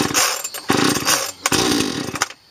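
A BlueMax chainsaw is pull-started, giving loud, close bursts of rough engine sputter and whine that catch and die in quick succession.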